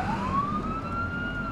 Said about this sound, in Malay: Masa tu ambulans dah sampai.